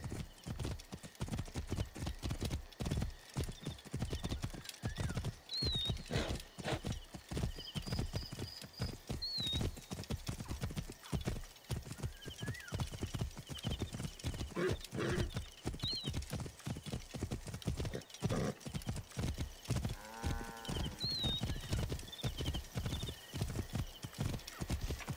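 Horses gallop in a race in Assassin's Creed Origins, hooves clattering in a fast, continuous rhythm close by, with occasional whinnies and brief shouts over the pounding.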